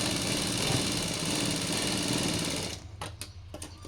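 A sewing machine stitches a long frock in a steady, fast, close-up whir that cuts off after about two and a half seconds, followed by a few soft clicks and handling sounds.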